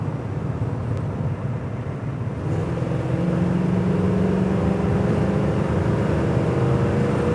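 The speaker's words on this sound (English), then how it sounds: "it telegraphs a great exhaust note outside" A 1966 Ford Mustang GT with a 289 V8 built out to a 347 stroker, its exhaust a steady, loud rumble that holds throughout and rises slightly in pitch as the car pulls, with no talking over it.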